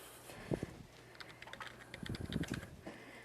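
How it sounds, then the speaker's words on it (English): A password typed on a computer keyboard: soft plastic key clicks in two quick flurries, close and fairly quiet, with no talking. "go ahead and type in password"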